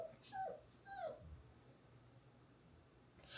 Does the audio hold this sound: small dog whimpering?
yes